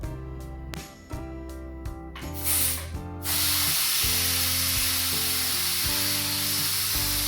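A pressure cooker holding mutton lets off steam in a strong, continuous hiss that starts abruptly and carries on loud to the end, over a background of music.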